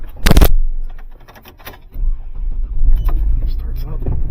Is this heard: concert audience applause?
no